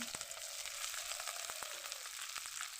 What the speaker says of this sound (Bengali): পুঁটি মাছটাকে আমি তেলের ভিতরে ছেড়ে দেব।